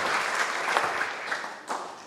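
A group at an Easter youth church camp claps steadily for about two seconds, a moderately loud wash of applause with a few sharper individual claps near the end.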